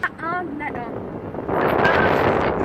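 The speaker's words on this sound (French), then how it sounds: "Le vent." Gusty wind buffets the microphone outdoors, a steady roaring rush that swells louder and fuller in the second half, with voices talking briefly at the start.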